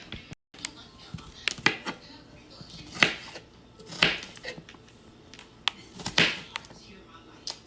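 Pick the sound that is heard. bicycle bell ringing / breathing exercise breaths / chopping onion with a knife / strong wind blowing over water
chopping onion with a knife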